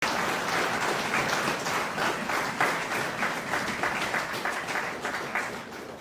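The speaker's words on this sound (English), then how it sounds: "recognize with a loud round of applause the officers and all members of the Guyana Defense Force" Sustained applause fills a hall at a Guyana Defence Force conference as the audience salutes officers serving at the border, a dense, steady wash of many hands clapping with no speech over it for six seconds.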